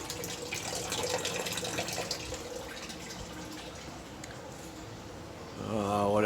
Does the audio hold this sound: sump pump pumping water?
yes